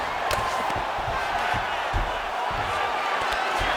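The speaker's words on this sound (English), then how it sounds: "the crowd is loving it" A virtual arena crowd roars steadily in the UFC 5 video game, at a mixed martial arts bout, with a dense, continuous wash of cheering and scattered thuds.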